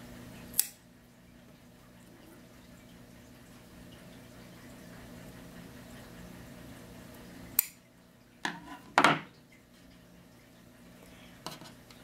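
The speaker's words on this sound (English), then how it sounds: "The first thing you need to do is to make a little snip in the sock on each side." Scissors make a few sharp snips into a sock, with isolated clicks spread over a quiet background.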